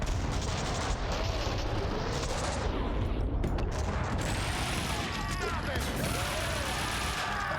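Max Payne 2 gunfire in a dense, continuous barrage of shots and crashes during a slow-motion shoot dodge, loud and unbroken throughout, with brief whistling streaks and rumbling effects layered over the battle noise.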